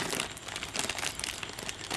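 A plastic bag is crinkled and handled close to the microphone, giving a dense run of sharp crackling rustles that keeps going for two seconds with no talk over it.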